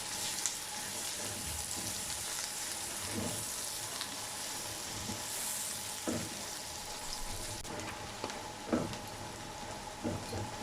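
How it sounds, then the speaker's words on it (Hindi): Green onions frying in a pan while cooking chicken biryani, a steady soft sizzle with occasional crackles and faint stirring clicks, quiet and continuous with no talking. "अब इसमें हरी प्याज डाल देंगे, इसे भी 1 से 2 मिनट के लिए फ्राई कर लेंगे।"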